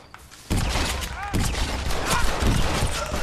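Gunshots crack out in a Red Dead Redemption shootout match, a loud burst of fire starting abruptly and continuing in dense repeated shots, with a few ricochet-like whines above the clatter.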